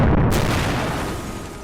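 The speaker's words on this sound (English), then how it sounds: "2 more boilers exploded suddenly after." A steamboat boiler explosion rendered as a heavy, loud boom that fills the whole clip, with a sharp onset followed by a dense rumbling roar that slowly fades.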